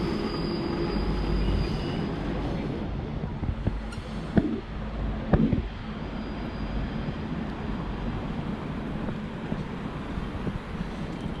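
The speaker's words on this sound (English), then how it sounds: "This is train of Busan." Busan-bound train rolling through a Seoul station, a steady broad rumble of cars and wheels with a few sharp metallic clanks and squeals midway, close and continuous throughout.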